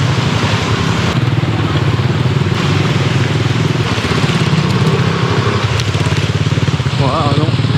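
A motorbike engine in Mui Ne, Vietnam chugs steadily and loudly while riding through water, a continuous rough running note with splashing texture and brief voices beneath.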